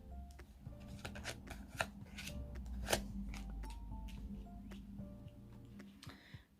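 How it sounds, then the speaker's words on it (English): Oracle cards are shuffled and laid down on a surface, giving close, quiet riffling and soft slapping snaps in a steady run of bursts, with no talking. "let's put some oracle cards down"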